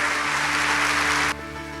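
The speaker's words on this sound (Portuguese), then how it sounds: "Aplauda ao Senhor, glória a Deus." A short burst of applause at a church gathering, a dense wash of clapping that suddenly drops to a quieter background with a faint hum.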